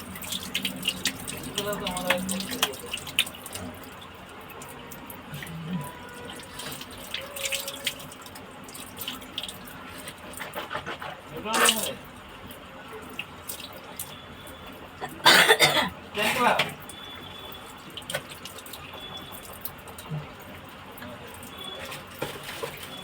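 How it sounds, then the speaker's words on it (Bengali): Running tap water splashes as someone washes their face at a sink in a home, with intermittent louder splashes and a cough or throat clearing amid background household noise. "আমাদের এখানে এরকম করে মুখ ধুতে হয়।"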